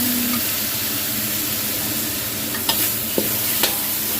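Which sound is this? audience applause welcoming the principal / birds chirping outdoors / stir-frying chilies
stir-frying chilies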